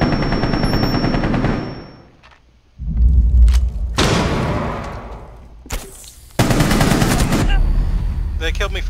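Loud bursts of machine gun fire in Rainbow Six Siege, on the Skyscraper map in team deathmatch, come in several long sustained volleys broken by brief pauses and a few heavy booms.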